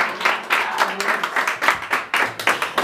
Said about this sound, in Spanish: el aplauso bien bonito